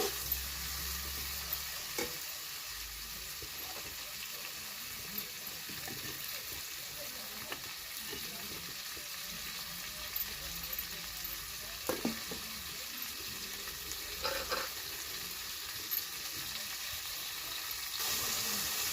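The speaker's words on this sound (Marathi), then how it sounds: "असं परतून घेऊ पाच एक मिनिटासाठी परतून घ्यायचं" Okra for dahi bhindi is stir-fried in a pan with a little salt, a quiet continuous sizzle with occasional soft scrapes of a spatula at an even pace.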